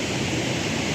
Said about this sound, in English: that's the overspill from the reservoir behind me